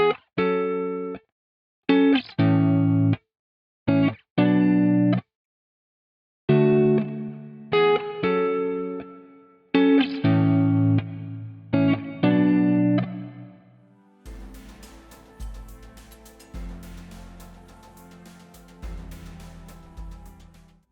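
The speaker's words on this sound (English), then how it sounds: "The HA240 Gold Foil Reverb gives vocals, guitars, strings and synths a distinct, dark yet enticing space" Choppy musical phrases with stop-start chords ring out into a dark, spacious reverb from a Heritage Audio HA240 Gold Foil Reverb plugin, then a denser, washed-out passage swells and lingers.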